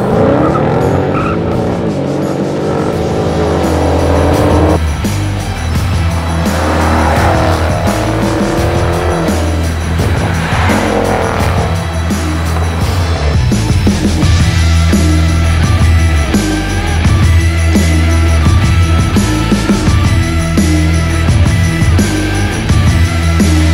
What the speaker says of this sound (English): Dodge Challenger, a 392 Scatpack, Ford Mustang GT, convertible,